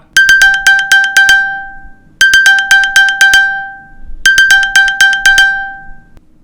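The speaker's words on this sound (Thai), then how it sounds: "Apple เปลี่ยนเสียงใหม่เป็นเสียงแบบนี้แทนแล้วครับ" A bright, chiming electronic alert plays three times, each burst a quick run of ringing metallic tones, clear and loud with short pauses between; the new iPhone alert sound in iOS 16.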